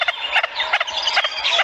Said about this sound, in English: The greater honey guide has a very particular chatter, which you should be able to hear now.